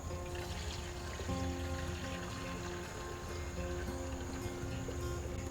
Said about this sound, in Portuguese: Devemos colocar primeiramente no recipiente do liquidificador a água. Vamos colocar então 1 litro de água.